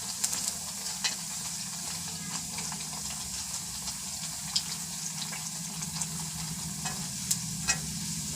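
Bread slices frying in ghee over medium heat for shahi tukray, a steady close sizzle with occasional crackles and light stirring clicks throughout, no talking.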